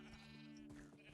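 Sheep bleat in the TerraFirmaCraft video game, where a pen is crowded with them. A short, faint bleat sounds over a steady low game hum, with no speech.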